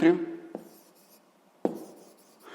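Marker strokes on a board during a sixth-grade math lesson, with soft rubbing scrapes and two sharper taps as the tip lands, fairly close and quiet, with a brief bit of voice at the start.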